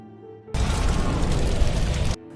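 A sudden loud boom from a house explosion in a horror film bursts in and roars for over a second before cutting off abruptly, leaving quiet background.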